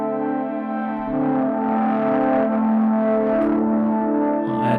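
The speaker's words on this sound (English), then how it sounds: "I'll add distortion." A sustained synth tone in Ableton Live grows gritty and saturated as drive distortion and big reverb are added, holding a steady buzzing drone with a slight swelling texture.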